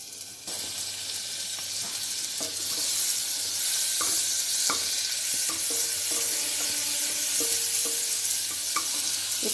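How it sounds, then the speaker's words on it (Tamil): Butter sizzles steadily in a pressure cooker on the stove for banana stem soup, with a constant close hiss and occasional light clicks of stirring. "அதில் எடுத்து வச்சுருக்கேன் இந்த பட்டரை போடுவோம்."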